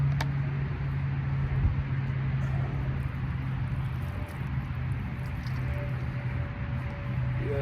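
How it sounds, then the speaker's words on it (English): A Sunny Gold watermelon is rinsed under running water, a steady, even splashing hiss that carries on unbroken and fairly close. "Let me rinse that off real quick."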